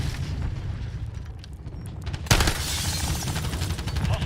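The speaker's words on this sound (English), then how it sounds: "Stun grenade out!" A stun grenade detonating in Call of Duty MW3 multiplayer, a sudden loud bang about halfway through that gives way to a bright ringing hiss over ongoing low battle rumble.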